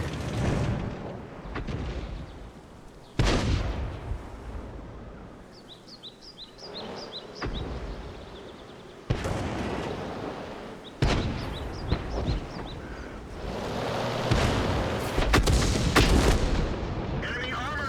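Artillery guns boom in the World of Tanks tank battle game: a few heavy, loud blasts spaced several seconds apart over a busy rumbling backdrop with small chirps between shots.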